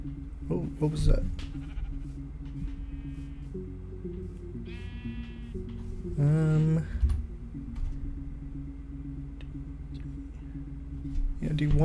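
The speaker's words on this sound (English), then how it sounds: "Okay, that's just a sheep." Sheep bleating in the game Minecraft, a couple of short wavering bleats amid quiet background, with keyboard clicks and a person talking over parts.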